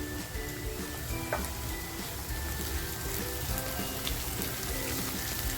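Soft, steady sizzling and crackling of onion and garlic frying in a kadai for mutton masala gravy, quiet and continuous with no talking.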